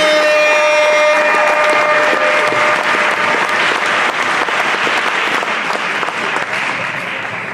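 A gospel awards ceremony audience applauds an award winner, loud sustained clapping from a large crowd that stays dense throughout with little talk.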